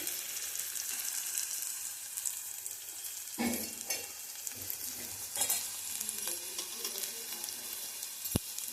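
Vegetables fry in oil in a pan, a steady close sizzle running throughout, with a few louder stirring scrapes and a sharp clink near the end.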